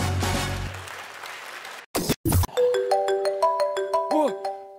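A mobile phone ringtone plays a bright, repeating melodic pattern of clean tones, loud and close, following a burst of crowd noise and applause at a KVN comedy show stage performance.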